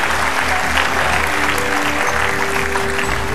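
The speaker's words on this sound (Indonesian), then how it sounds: "kita kasihkan tepuk tangan sambutan sekali lagi" A stage audience at the Indonesian event Mata Najwa Merayakan Indonesia gives steady, dense applause throughout, with a faint crowd murmur underneath.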